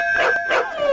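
Dog inside a temple sanctum, a short high howling whine rising and falling twice, close and clear with no talk.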